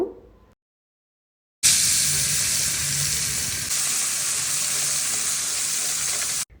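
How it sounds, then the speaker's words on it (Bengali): Pieces of fish rubbed with salt and turmeric hit the hot oil after a short silence, setting off a loud, even hissing sizzle that continues steadily and then cuts off, with no talking. "ভালো করে লবণ হলুদ দিয়ে মেখে নিলাম এখন এগুলো ভেজে নিব"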